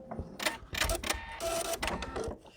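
An embroidery sewing machine ties off and cuts its thread: a close run of clattering mechanical clicks and whirring bursts with short pauses, ending in a brief chunk of the cutter, no voices.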